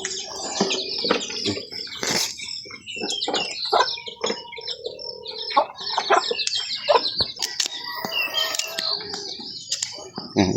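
Chickens cluck and chirp in a busy, close flock, with many overlapping calls and short scratchy noises, some louder squawks standing out, and a person's voice faintly in the background.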